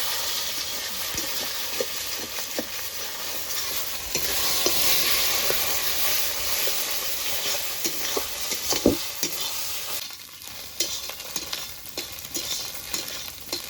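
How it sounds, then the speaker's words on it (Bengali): Eggs seasoned with salt and a little turmeric are stirred and fried in a pan for chowmein, giving a steady close sizzle with scraping stir strokes and a few sharp clicks throughout. "এবার নেড়ে চেড়ে ভেঙে ভেজে নেবো ডিমগুলোকে"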